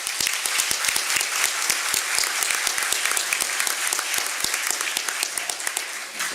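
An audience applauds at a 2023 State of the City address, a loud, dense round of clapping that holds steady for several seconds before easing slightly near the end.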